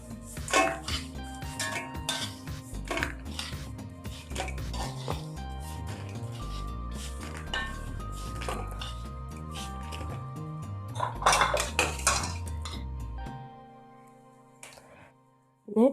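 Fried pappadam being scooped from a pan of hot oil, with steady clatter of a metal ladle against the pan and loud clinks throughout, a bubbling sizzle underneath, then fading near the end before one last sharp knock.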